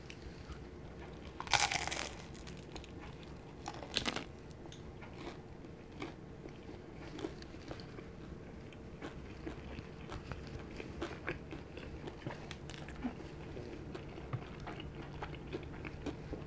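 A crispy fried dim sum dumpling with mayonnaise gets a loud, close crunchy bite, then a second bite, followed by quiet, continuous chewing.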